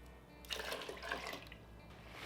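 Six cups of water pour into an Instant Pot over red lentils and kidney beans, a short, faint splashing gush lasting about a second that fades out quickly, with no talking.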